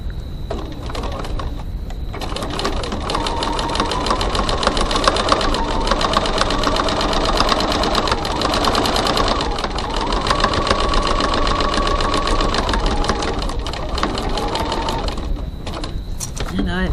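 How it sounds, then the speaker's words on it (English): A sewing machine top stitching a pocket onto a bag runs in a steady, rapid mechanical whir, close and continuous with slight speed changes, a faint voice now and then underneath. "I'm just going to top stitch the top side."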